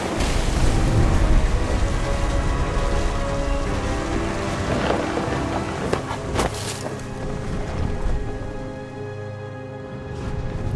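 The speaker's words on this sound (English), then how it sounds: "The thunder sounded much too close and full of angry power." Heavy steady rain with rumbling thunder in a stormy scene from the video game What Remains of Edith Finch, a loud dense wash that eases slightly toward the end, with no speech.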